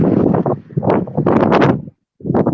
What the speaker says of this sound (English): I can hear that wind.